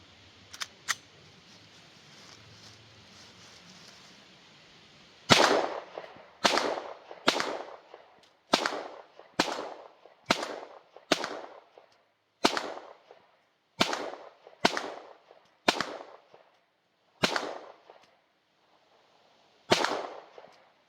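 A Springfield Armory XD Mod 2 9mm pistol with a 4-inch barrel fires about a dozen loud, sharp shots at a steady, unhurried pace. Each report cracks out cleanly with brief gaps between shots. Faint clicks come before the first shot.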